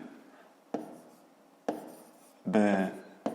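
Handwriting on paper in a maths lesson: soft scratchy strokes with a few sharp taps and a louder scribble near the end, while a voice speaks at intervals.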